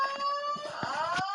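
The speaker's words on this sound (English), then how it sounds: "my alarm in my dorm just went off" A dorm smoke alarm blares a steady, loud, piercing electronic tone that slightly rises in pitch, with faint background knocks beneath it.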